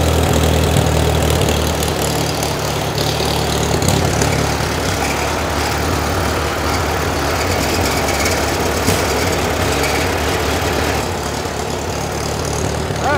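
A snowblower engine runs steadily after an oil change, a loud, continuous close-up drone with a rough, knocking idle that holds throughout with no speech.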